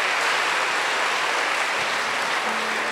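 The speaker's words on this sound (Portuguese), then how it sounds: "todo mundo bate palma, vai lá. Bate palmas." Church congregation clapping together, a dense, steady wash of applause from many hands that holds at the same loudness throughout with no talking on top.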